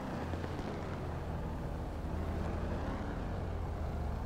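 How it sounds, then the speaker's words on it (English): A deep muscle car engine roar in GTA V drones steadily throughout, loud and continuous with a low rumbling growl. "a civilian in a muscle car that just happened to sound like a big engine"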